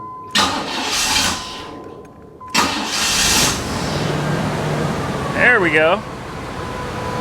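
A 1993 Chevy Caprice, freshly tuned up with a new fuel filter, cranks in two bursts and then fires and settles into a steady idle. Someone speaks briefly near the end over the running engine.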